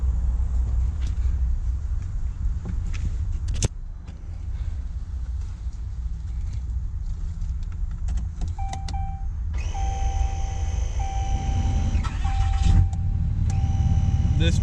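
A tuned and deleted 2016 Dodge Ram 2500 Mega Cab diesel truck cranks and starts, with chimes and clicks heard inside the cab. A loud, steady engine rumble follows and holds throughout.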